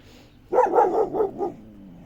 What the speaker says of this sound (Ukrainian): От на кого він оце гавка?